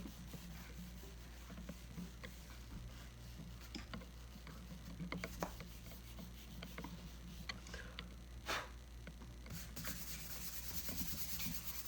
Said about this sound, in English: I want everyone to erase their outline with an eraser.